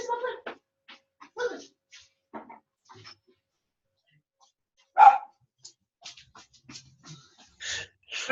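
Several dogs barking in bursts as a door is opened to let them outside, mixed with someone speaking in Spanish; the barks come intermittently at moderate loudness, with one loud close bark partway through.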